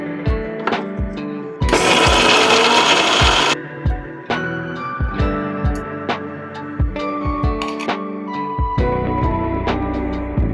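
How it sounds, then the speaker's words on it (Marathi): A kitchen mixer grinder grinds garlic, green chilli and cumin in one loud, roughly two-second whirring burst, surrounded by close knocks, clunks and clatter. "लसूण, हिरवी मिरची, जिरे मिक्सरमध्ये वाटून घेऊया"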